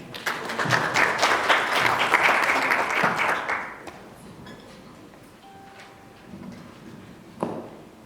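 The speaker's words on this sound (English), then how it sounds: "A round of applause for him, please." Audience applause welcoming a speaker at a local government gathering, a dense burst of clapping for about four seconds that fades out, leaving a quiet room with a faint knock near the end.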